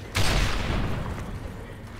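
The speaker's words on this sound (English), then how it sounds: "Tossing a flashbang!" A flashbang grenade goes off in Call of Duty MW3, a sudden loud burst with a broad crack that decays into a rumbling, ringing tail over about two seconds.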